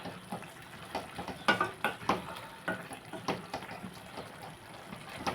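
A spoon scrapes and clinks rhythmically through a salted mushroom curry in a pan, a series of close stirring strokes over a faint sizzle.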